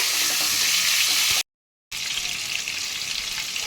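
Pointed gourds frying in hot oil, a dense, bright, hissing sizzle heard up close, cut off briefly by a half-second gap of silence before the steady crackle resumes.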